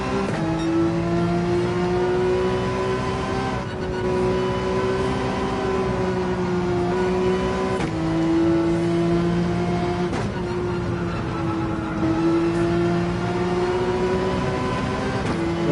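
A GT3 race car in the video game Gran Turismo 7 pulls out of a corner apex with a steady, loud engine drone, its pitch rising and resetting with each gear change over several shifts, with no talk over it.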